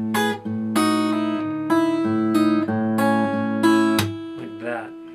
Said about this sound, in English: So it's a series of double stops.